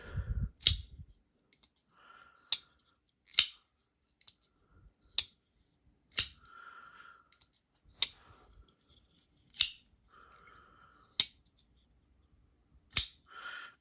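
Null Knives Raiden folding knife flipped open and shut repeatedly, giving about ten sharp, crisp clicks spaced a second or so apart, each with a brief metallic ring, close up in a quiet room.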